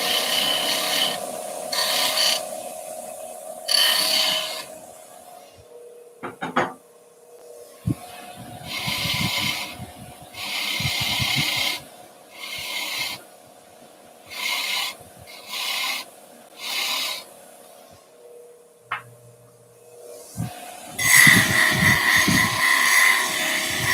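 A bench wire wheel cleans freshly sharpened tools, sounding as repeated rasping bursts of varying length as each tool is pressed against it, with the motor's hum continuing between contacts.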